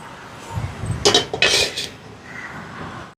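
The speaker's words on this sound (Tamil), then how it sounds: "இதில் வந்து குழம்புக்கு சட்டியை வைப்போம்" A metal cooking pot set down for egg curry in an elderly home's kitchen gives a brief, close clatter and clink of metal, then fades to a quiet room.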